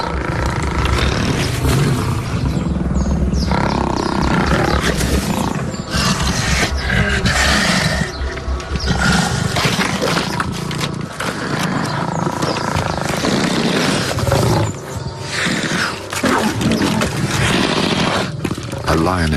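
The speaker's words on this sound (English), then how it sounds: "A lioness manages to seize the spoils and the other lions challenge her for it." Lions fighting over an antelope kill, a lioness seizing it as others challenge her, fill the scene with loud, continuous rumbling roars and snarls, dense and close throughout with no pause.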